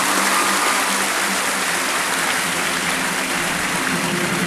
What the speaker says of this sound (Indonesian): Apakah tepuk tangan Anda untuk Nusantara?